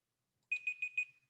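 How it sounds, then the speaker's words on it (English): A classroom timer alarm goes off with four quick, high electronic beeps in a steady rhythm, fairly faint against an otherwise quiet room. "the timer just went off"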